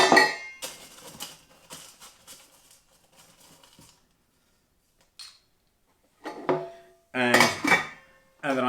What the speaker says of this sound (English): Throw in a bit more ice.